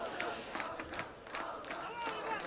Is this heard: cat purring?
no